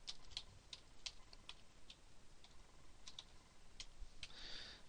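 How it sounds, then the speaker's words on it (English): A computer keyboard is used to type a username into a university portal login, with a quiet, irregular run of separate key clicks and a brief burst near the end. "You type in your Plymouth portal username there, and then your Plymouth portal password here."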